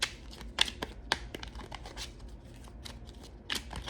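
Fortune Cookies oracle cards are shuffled by hand, quick papery riffles and soft slaps in uneven bursts, close and moderately quiet with no talk.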